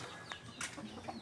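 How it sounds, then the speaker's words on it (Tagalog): Pet chickens clucking softly at close range while feeding, a few short clucks and low calls scattered over a quiet backdrop. "Yung manok, nangaagaw ng pagkain."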